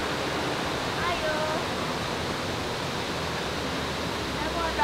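Steady, dense rushing of water, a continuous broadband roar with no breaks, from the nearby Blue Lagoon waterfall in Buleleng, Bali.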